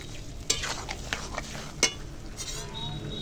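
Prawns and pointed gourd sautéed in a pan at home, with steady frying and sizzling under scrapes and two sharp utensil clinks against the pan.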